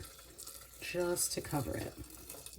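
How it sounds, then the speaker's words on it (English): Water pours into a pot of pasta in a splashing, gurgling burst under a person speaking nearby. "Now I'm going to pour water up to, like, really just to cover it."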